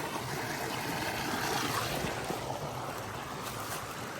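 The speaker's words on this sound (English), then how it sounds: "it's just basically a rock hop across or just hopping across a little stream here." Small creek flowing at a rock-hop trail crossing, a steady broadband wash of running water close by, continuous and even throughout with no voices.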